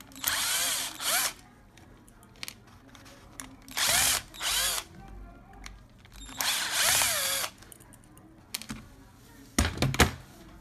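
An electric pistol drill unscrewing the casing of a small device, running in several short whirring bursts of a few seconds each, loud and close, with quiet handling noises between the bursts.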